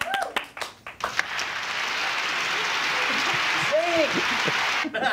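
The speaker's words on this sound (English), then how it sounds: "Let's give them a big round of applause." Audience applause at an evening show, starting with a few scattered claps before swelling into steady, moderately loud clapping, with a voice briefly speaking over it.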